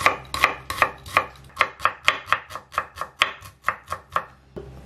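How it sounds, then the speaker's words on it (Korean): A knife finely chops about 30 grams of onion on a cutting board, with around seventeen crisp, evenly spaced strikes in a quick steady rhythm, close and clear with no talking. "곱게 다져주시고요"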